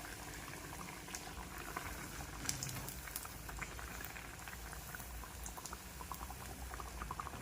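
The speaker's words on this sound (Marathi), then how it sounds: "छान गोल्डन ब्राउन कलरवर येईपर्यंत वडे आपल्याला तळून घ्यायचे." Sabudana vadas deep-frying in hot oil give a steady, dense bubbling sizzle with fine crackles that runs unbroken and close throughout, with no voices.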